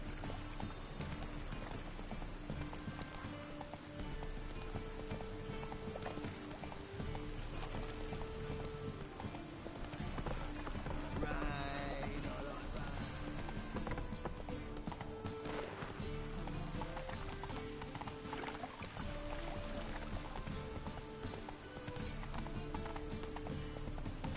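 Roach, the horse in The Witcher 3, gallops with a steady clip-clop of hooves that runs the whole way through, moderately loud under continuous game music, with an occasional whinny.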